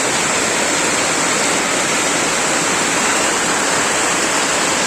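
Torrential rain that has poured since late afternoon, flooding the ground ankle- to knee-deep, heard as a constant close wash of hissing noise, steady and loud throughout.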